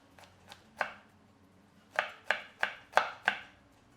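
A knife chopping jalapeno chilies on a board: a couple of soft cuts and one firmer one, a pause, then five crisp, evenly spaced chops close up.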